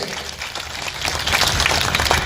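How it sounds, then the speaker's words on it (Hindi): A crowd at a political rally in Hussainabad bursts into loud applause, dense clapping that swells and keeps going without pause. "जनता के लिए एक बार हाथ खड़ा करके जोरदार तालियां बजा दीजिए।"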